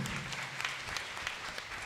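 Congregation clapping hands in thanks to God during a Lenten healing worship service, an even, continuous patter of many hands heard faintly, as from a distance.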